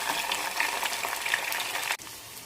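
Curry leaves, red chili and garlic fry in hot oil for mango chutney, giving a close, steady crackling sizzle that cuts off abruptly near the end and then resumes more softly.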